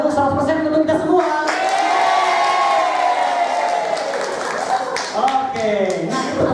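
An audience of teachers at an in-house training session claps together, steady dense applause with a few cheers mixed in, a voice audible at the start and end.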